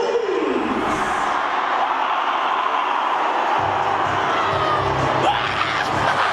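A large crowd cheers and roars continuously at the Leeds Varsity 2012 rugby union final, a dense, loud wall of shouting and whooping that swells further toward the end.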